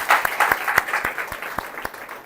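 A church congregation claps together in thanksgiving, a steady run of sharp, fairly close hand claps repeating in an even rhythm and slowly fading, with no one speaking.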